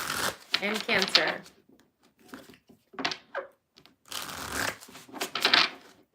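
Tarot cards being shuffled in bursts of papery riffling, spaced by short pauses across the stretch, fairly close but not loud, with a voice speaking faintly in places.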